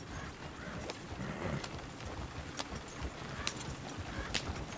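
Horse hooves clip-clopping in Red Dead Redemption 2, a steady irregular patter of hoof strikes at moderate distance, alone with no speech, over a faint outdoor ambience.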